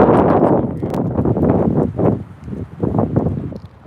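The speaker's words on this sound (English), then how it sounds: "it's windy as a mug over here" Gusty wind blowing outdoors, buffeting the microphone with loud, uneven rumbling bursts that rise and fall for several seconds.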